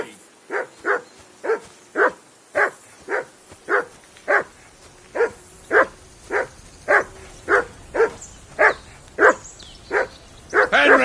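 Dog barking in the medieval role-playing game Kingdom Come: Deliverance, a steady run of about eighteen loud, evenly spaced barks close by, with no talk over them.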